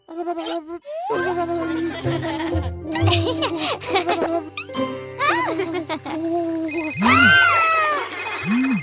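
A telephone rings in a cartoon Halloween scene, with tinkling, jingly bell tones repeating amid music and playful voices, loud and close throughout.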